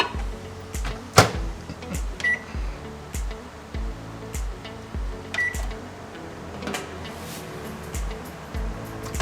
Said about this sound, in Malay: So kita microwave dia for 30 second.